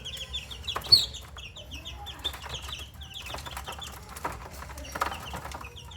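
Young crossbred chicks about 25 days old, from a McLean cross father and blue-grey mother, peep and cluck in a quiet coop, with high chirps scattered throughout and a few soft wing flaps, fairly faint and without talk.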